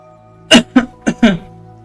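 Four short, sharp coughs from one person, spaced unevenly over about a second, close and fairly loud against a quiet background with a faint hum.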